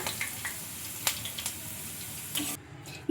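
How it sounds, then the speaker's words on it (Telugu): Chillies and curry leaves fry in a pan, giving a soft, steady sizzle with a few scattered crackles and stirring clicks, quiet and close, with no talk over it. "ఇప్పుడు ఇందులోకి మిర్చి కాస్త కరివేపాకును కూడా ఫ్రై చేసుకోవాలి"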